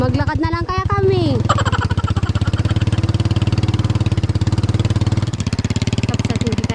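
Someone's low-slung motorcycle runs with a steady, close, throbbing engine note throughout, and a voice talks briefly over it at the start.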